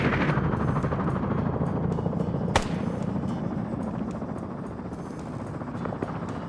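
A video-game helicopter flies with a loud, continuous rotor drone and a rapid chopping pulse, marked by a single sharp thump partway through.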